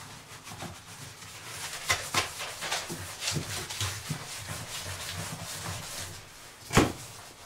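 Soapy suds are rubbed and scrubbed around a bathtub, close-up irregular swishing strokes with a few louder scrapes, one sharp knock near the end, and no speech.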